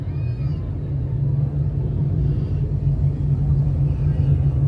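358 small block modified dirt race cars rumble steadily at Can-Am Speedway, a continuous low engine drone filling the air at moderate distance with no clear passes standing out.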